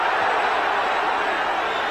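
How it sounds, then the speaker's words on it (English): A football stadium crowd at Ayresome Park during a 1988 Middlesbrough versus Aston Villa match reacts to a free kick, a dense, loud, steady roar of voices with no distinct breaks. "the crowd ain't happy with that"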